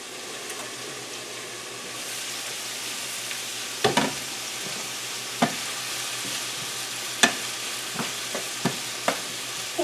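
Noodles and cabbage cooking in a pan on the stovetop make a steady close-up sizzle, punctuated by several sharp clanks and scrapes of stirring at irregular intervals.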